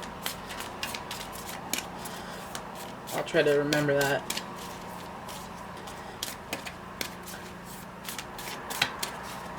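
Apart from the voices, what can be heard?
shuffling tarot cards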